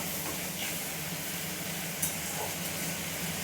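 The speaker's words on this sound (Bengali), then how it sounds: "এবার এটাকে আমি ভালো করে নেড়ে একটু কষিয়ে নেব।" Pumpkin being stirred and sautéed in a pan, a steady broad hiss of sizzling with faint scraping, continuous and even throughout.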